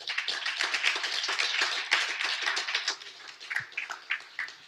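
A small conference audience applauding the moderators of a startup panel, close, lively clapping that thins out into a few scattered claps toward the end.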